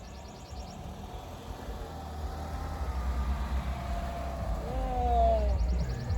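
Cars rolling in and idling nearby, a low engine rumble that grows gradually louder as vehicles approach, with a brief squeak toward the end and no talking.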